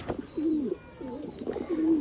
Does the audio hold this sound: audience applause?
no